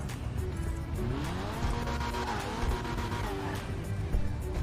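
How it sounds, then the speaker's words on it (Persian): A car engine runs steadily with a rising and falling tone, loud and close, over a constant low rumble. "صدای موتورش وای"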